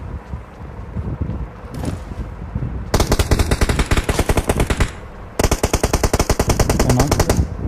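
Automatic gunfire from a shooter video game sounds in rapid, evenly spaced bursts. Two long, loud volleys follow a quieter stretch of faint rumble, and they are separated by a short pause.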